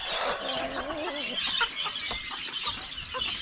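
A rooster clucks and squawks in a series of short, agitated calls, close by, with scuffling and handling noise throughout.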